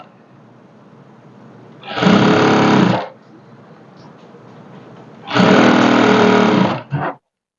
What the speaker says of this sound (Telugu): స్ట్రైట్గా ఒక స్టిచ్ అయితే వేసుకోండి